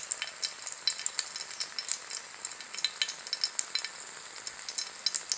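Green chillies frying in a pan for chutney, a busy crackling sizzle with bursts of popping and occasional stirring scrapes, close and steady throughout, with no talking.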